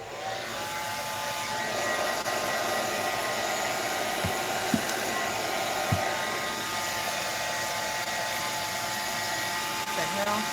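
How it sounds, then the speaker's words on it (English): A handheld hair dryer blows steadily on a mixed media envelope made from junk mail, a constant close whooshing roar filling the whole stretch, with a couple of faint taps beneath it. "Let me just blow dry this really quickly."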